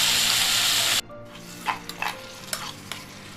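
Pork blood hits a hot frying pan with a loud sizzle for about a second, then a spatula stirs it, leaving scraping clacks and quieter frying over the remaining seconds with no talk.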